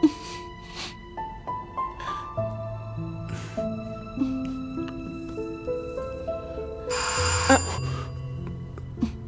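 A telephone rings in a Latin American Spanish drama, repeating ring tones with melodic electronic notes, loud and close, ringing alone without talk.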